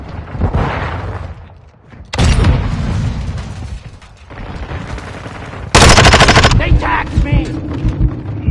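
Gunfire and grenade blasts in a video game, with rapid machine-gun bursts and loud booming explosions in several close, intense waves, one especially loud near the end.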